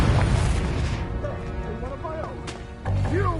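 A Confringo spell explosion from Hogwarts Legacy opens with a heavy booming burst. It fades into fainter rumbling and scattered effects, and a second loud surge arrives near the end.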